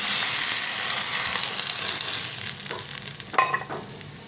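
Curry leaf sprigs sizzle and crackle in hot oil for a low-oil sambar, a dense steady frying hiss with a few sharper pops and stirring scrapes near the end, no voices.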